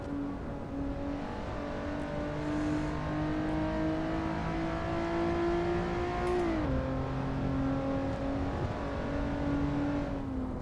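A Honda NSX engine in the Assetto Corsa racing game hums and climbs steadily through the revs, then drops briefly at a gear change and keeps pulling. The drone is continuous and close, with no talking.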